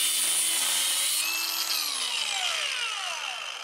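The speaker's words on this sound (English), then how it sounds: "cut the last little bit with the hacksaw" A hacksaw finishes cutting through a steel pipe, a scrap length carrying the remnant of a cast iron fitting, making a steady, close, loud rasping and ringing metallic scrape with no voices.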